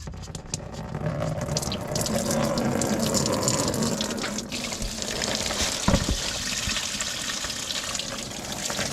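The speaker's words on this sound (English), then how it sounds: "It'll drain straight down here if you just loosen it." Coolant draining from the radiator of a 2004 Toyota Tundra with a 4.7L V8 into a pan, a steady splashing liquid pour heard close and continuous throughout.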